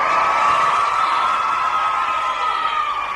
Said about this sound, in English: That's the sound of the Irish jury, a large, happy crowd are all ready to vote